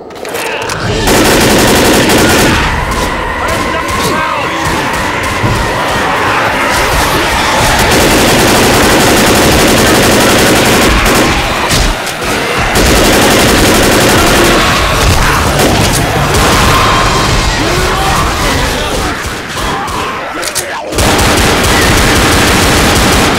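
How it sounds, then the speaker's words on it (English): Sustained gunfire in the video game Left 4 Dead, loud rapid bursts and booms of shooting that run almost continuously, with only short gaps. "shooting me!"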